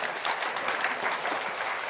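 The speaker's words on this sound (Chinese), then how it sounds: "我们再度给她一个掌声" Sustained applause from a lecture audience fills the hall, a dense, steady wash of many hands clapping at once with no voices above it.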